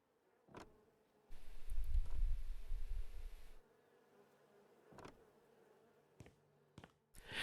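Bees buzz in the House Flipper 2 video game, a low droning hum that swells for a couple of seconds and then fades, with sparse clicks and taps from the game before and after.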